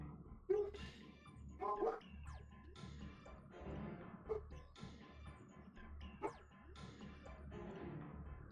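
Pet dogs outside, heard indoors, yipping and whimpering in excited bursts with a couple of sharper barks, faint and distant over a low background hum, with a little faint talk.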